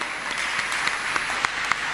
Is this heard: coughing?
no